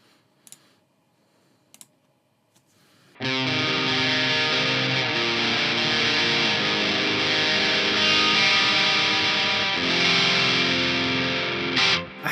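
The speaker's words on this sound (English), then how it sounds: "And then in the effects loop we can run a reverb." Loud distorted electric guitar played through an amp with reverb in the effects loop, a Boss Ampero II Stomp rig, sustained chords and riffs ringing continuously after a couple of faint clicks and a short quiet start.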